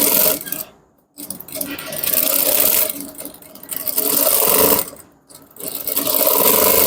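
Sewing machine running in steady bursts as it stitches along the base of a pocket on a pair of men's shorts, with two short pauses, loud and close, no talk.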